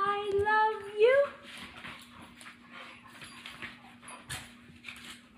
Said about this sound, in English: This is your first dog fight